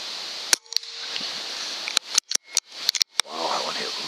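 A Benjamin Armada .22 air rifle fires at a target about 31 yards away, a series of sharp, sudden cracks and clicks spaced irregularly, with a voice speaking briefly near the end.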